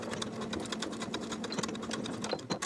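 A sewing machine stitches a 3/8 inch seam along the folded fly shield piece for high-waisted jeans, a fast steady chatter of the needle, close and continuous, slowing briefly at the end.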